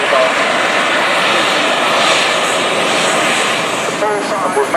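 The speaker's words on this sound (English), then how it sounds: "What you can hear at your left now is the Avro bomb." A model Avro Vulcan bomber flies over an airshow with a loud, continuous jet roar that swells and fades slightly while an announcer talks over it.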